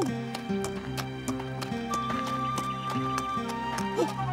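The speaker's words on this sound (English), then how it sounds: "An injured wombat riding a horse." A horse's hooves clip-clop in a steady rhythmic gait, with an injured wombat riding on its back; the hoofbeats are clear and close, set against a sustained musical backing.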